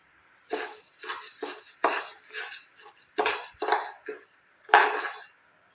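Washed and dried moong dal is dry-roasted in a pan, stirred in a series of close, sharp scraping and rattling strokes, each separated by brief pauses.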